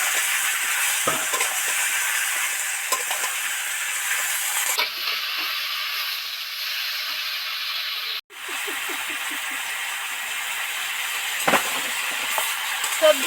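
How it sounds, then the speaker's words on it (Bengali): Pumpkin, potato and onion sautéing in a pan over a high flame, a loud continuous sizzle and hiss with occasional stirring scrapes, dipping briefly midway before resuming. "কষার সময় একটু জালটা জোরে দিতে হয় সেই জন্য একটু জালটা জোরেই দিয়েছি তবে ভালো করে সবজি কষা যাবে"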